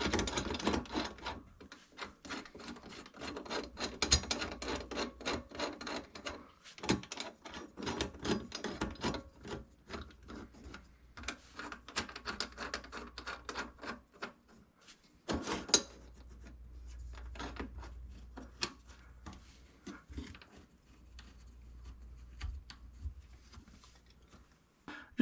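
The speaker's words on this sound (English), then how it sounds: "Now I tighten these by hand first." Garbage disposal mounting screws tightened by hand, faint close scraping and rubbing in irregular bursts with small metallic clicks, pausing briefly between turns.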